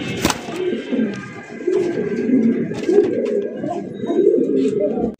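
Pigeons coo steadily in a Bangladeshi pigeon market offering fancy domestic and foreign breeds, a close, continuous layered cooing from several birds with a sharp click near the start and faint background noise.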